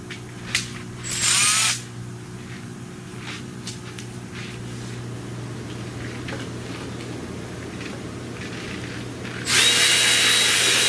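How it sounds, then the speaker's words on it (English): Two loud bursts from a power tool driving a bolt on a 2007 Saturn Outlook during an alternator replacement, one short early run and a longer one at the end, with a steady engine-bay hum and faint clicks in between. "Let's see if I get a power tool on that."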